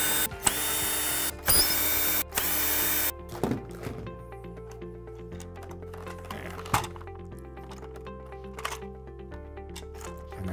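A power driver spins out the gearbox screws on a Polaris Vac-Sweep 3900 Sport pool cleaner in several loud, close whirring bursts, followed by quieter clicks and handling of plastic parts.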